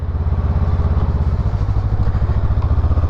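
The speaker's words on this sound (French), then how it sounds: "le moteur a un comportement feutré." A small Honda CMX500 custom motorcycle engine runs close by with a loud, rhythmic, even low thrum and a faint mechanical clatter.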